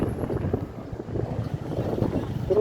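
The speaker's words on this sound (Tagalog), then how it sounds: "Grabe kang hangin mo ka dyan." Strong wind buffeting the microphone on the Panguil Bay bridge, a steady low roaring rumble with gusty swells, loud and close, no voices.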